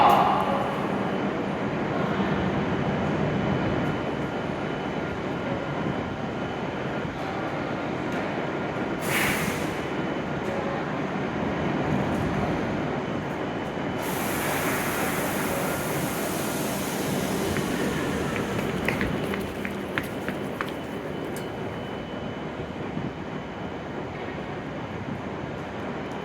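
An E7 series Hokuriku Shinkansen Kagayaki train pulls into Kanazawa station platform 11 and comes to a stop, a low steady rumble of the moving train with brief hissing bursts and faint platform ambience.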